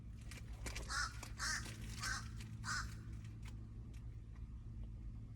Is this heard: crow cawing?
yes